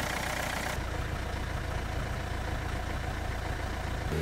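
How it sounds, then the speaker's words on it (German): A car engine idles steadily after its fuel injectors were replaced, giving a continuous close-up rumble with no vibration surges and no voices. "Motorvibrationen im Leerlauf sind nicht mehr festzustellen."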